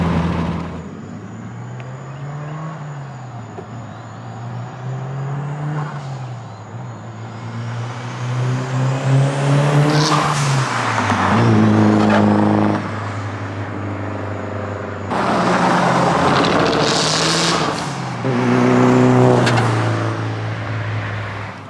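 A Mitsubishi Lancer Evolution and a Subaru WRX STI rev and swell as they pass close by one after another, rising and falling in pitch with loud surges and steady engine drone between.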